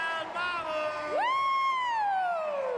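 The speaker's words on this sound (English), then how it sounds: "Cheering." Spectators cheer at the Dock Masters 2019 climbing competition as a climber finishes; one loud rising whoop swells into a long, sustained shout over the crowd.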